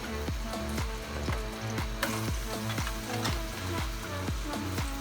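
Potatoes fry in oil in a pan with a steady, dense sizzle. Crackling pops repeat throughout, close and even, with no talking.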